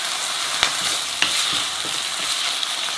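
Curry-seasoned fish cakes stir-fried in a pan with soy braising sauce and oligosaccharide syrup, a loud, continuous sizzle with a few sharp spatula scrapes, no voices.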